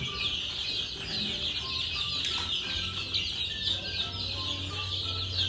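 Gamefowl chickens, including black SBR birds warming under a lamp, cluck and chirp continuously at a game farm, a steady close chorus of hen and chick calls with a few louder clucks.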